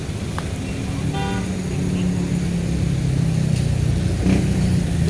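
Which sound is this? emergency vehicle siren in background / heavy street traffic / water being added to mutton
heavy street traffic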